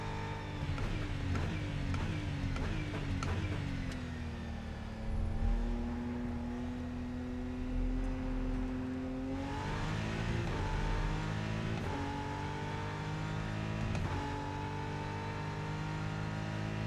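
BMW M4 or M6 race car engine in the Rennsport racing game, revving up through quick gear shifts, settling into a steady drone, then climbing again, loud and close with no voices.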